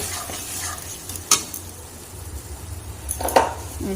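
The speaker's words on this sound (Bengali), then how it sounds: "এবার ডাল সেদ্ধটা দিয়ে দেবো ভালো করে ডালটা সঙ্গে মিক্স করে নেব" Boiled lentils are stirred into a frying spice mixture in a pan. A continuous low sizzle runs underneath, broken by two sharp scrapes or knocks of the spoon against the pan.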